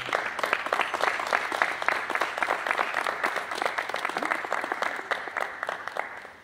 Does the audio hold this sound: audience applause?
yes